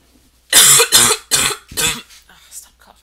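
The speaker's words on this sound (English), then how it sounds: "Stop coughing." Four loud, close coughs in quick succession, each a harsh burst, followed by faint trailing sounds.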